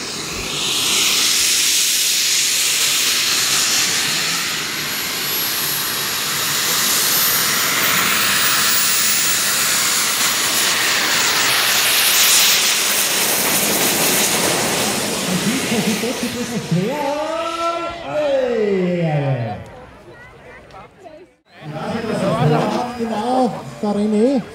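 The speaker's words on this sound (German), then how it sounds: "Flugzeug gelandet." A jet airplane at an air show roars loudly and steadily for most of the clip, broad and hissing, before fading as a voice speaks near the end over the dwindling engine noise.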